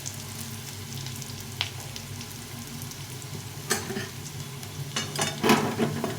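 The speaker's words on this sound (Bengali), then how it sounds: "তো আমি পেঁয়াজগুলোকে এভাবে ভেজে নিলাম" Onions fry quietly in a pan for a duck egg curry, a low steady sizzle with a few faint clinks of a utensil stirring near the end and no voices.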